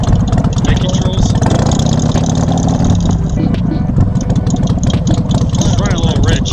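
A 2013 Harley-Davidson Sportster 48 with cut-off pipes and a stock breather idling rich, a loud, close, lumpy low rumble running steadily throughout, with people talking over it.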